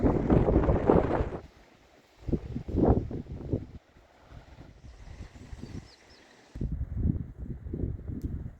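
Gusty wind buffeting a microphone among the crumbling walls of a ruined fort, rising in loud rumbling bursts that fade to a softer steady rush between gusts.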